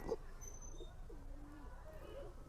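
Omani and Dubai Teddy pigeons, male and female, kept for sale, give a few soft low coos in a room, a moderate gliding call standing out over steady background hum.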